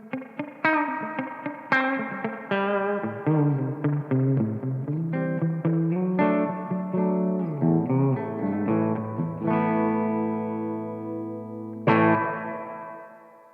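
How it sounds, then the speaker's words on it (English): An MG50CFX guitar amp set to spring reverb plays a series of electric guitar chords and single notes, a clean tone with chorus-like shimmer. Each note and chord rings out into a long splashy tail, and the final chord decays slowly. "What I'm going to do is switch over to the spring reverb now so you can hear the difference."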